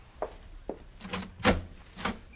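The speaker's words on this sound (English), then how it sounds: "Somebody at the door." Knocking and thumping at an apartment door in an old radio drama, a few irregular close knocks and bumps that build to sharper, louder raps, with no voices.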